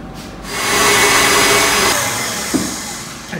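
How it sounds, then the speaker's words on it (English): An electric mixer creams 60 grams of butter with three-quarters of a cup of sugar, a steady loud whirring that starts after a brief pause and runs continuously, with a small knock near the end. "creaming the butter and sugar"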